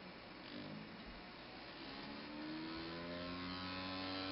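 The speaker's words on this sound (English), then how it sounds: "I'll turn it on really, really slowly. It's barely running right now." A 12-volt DC motor driven by an adjustable PWM driver board runs alone with a steady whir, its pitch climbing as it speeds up partway through.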